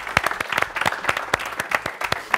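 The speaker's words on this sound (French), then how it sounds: "On peut l'applaudir, Paul." Studio audience applauding a game show contestant, a brisk patter of individual claps, fairly close and moderately loud, with no talking over it.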